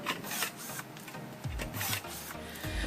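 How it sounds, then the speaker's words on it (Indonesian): A cordless rivet tool fastens lightweight steel hollow sections at a corner joint, giving a steady close mechanical whirr and grind with a few low thunks as the rivets set. "Kemudian bagian bawahnya juga kita paku rivet supaya akan lebih kuat."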